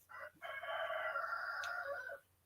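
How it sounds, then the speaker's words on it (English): A rooster gives one loud, close crow: a short opening note, then a long sustained cock-a-doodle-doo lasting about two seconds, alone with no talking. "Anybody want to buy a rooster?"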